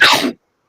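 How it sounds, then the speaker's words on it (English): A single sudden sneeze, loud and close, an explosive burst that cuts off into silence. "that was a sneeze"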